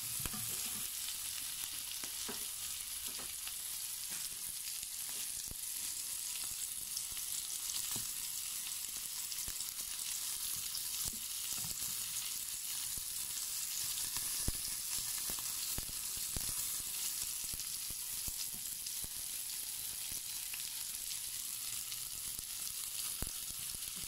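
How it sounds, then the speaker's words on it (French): Small bunch onions fry in a pan, giving an even, faint, steady sizzle with light stirring ticks scattered throughout. "on fait revenir les petits oignons"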